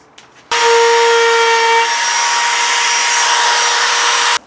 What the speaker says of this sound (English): So I'm just going to run the trim router over the edge, and I've got this nice chamfer bit.